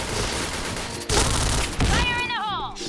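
Gunfire in the online shooter Point Blank, with rapid bursts of shots fired in quick succession, loud and close, followed by a sweeping whooshing effect.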